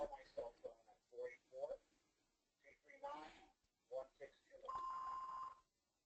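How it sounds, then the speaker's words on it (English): A phone rings in the background during an online talk, its steady electronic tone sounding briefly near the end under and after a presenter's speech. "So my phone is ringing in the background, so I apologize for that."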